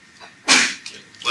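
A single sharp sneeze bursts out close by in a lecture room, followed by faint room noise.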